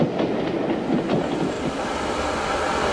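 A train running on rails, probably a 1960s British steam locomotive on a cross-country line, heard as a continuous loud rumble with rhythmic clickety-clack of wheels over rail joints throughout, with no voices.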